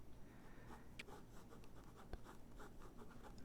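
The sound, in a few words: pen drawing on paper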